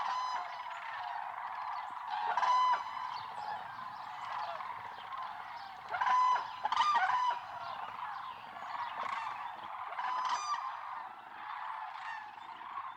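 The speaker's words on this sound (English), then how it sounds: "among the thousands of sandhills, we can now enjoy a small yet very significant number of whooping cranes" Thousands of sandhill cranes mixed with a few whooping cranes feeding in an Alabama field fill the air with a dense, steady chorus of bugling calls, with louder overlapping bursts rising above the constant flock noise.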